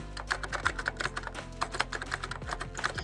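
An Aadhaar number is typed on a computer keyboard, a quick run of close, crisp key clicks in an uneven rhythm, with no voices.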